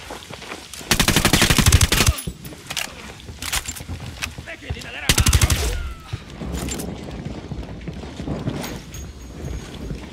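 Loud automatic gunfire in Ghost Recon Wildlands, two long sustained bursts followed by scattered shots and game noise, with voices talking in between.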